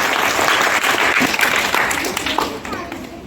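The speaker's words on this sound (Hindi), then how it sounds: "तो एक बार जोरदार तालियों से स्वागत सारे बच्चों का" Loud, sustained applause from a school audience greeting students who all passed their exams, steady clapping filling the whole stretch and fading slightly at the end, with children's voices mixed in.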